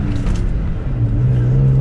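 Engine of a manual Toyota Tacoma pickup heard from inside the cab while driving through the gears, a steady low rumble whose hum rises in pitch as it accelerates, fairly loud with no talk.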